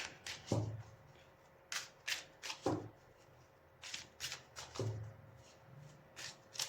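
Tarot cards being shuffled by hand in repeated quick riffling bursts, each a short crisp flutter separated by pauses, close and fairly quiet.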